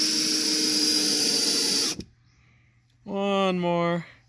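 Power drill driving the last screws into decking: one long whirring run that stops, a brief quiet gap, then a shorter burst that rises in pitch, all close and fairly loud.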